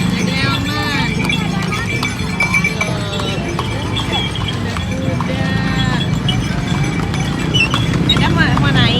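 Hooves of a horse pulling a delman cart clip-clop steadily and close by at a street gathering of ondel-ondel puppets, mixed with people chatting nearby.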